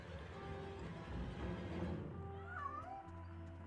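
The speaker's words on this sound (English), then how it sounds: "Kitty cat." Cat meowing in the video game The Long Reach, a short meow over a dense bed of game music and ambience, fairly faint and without talk.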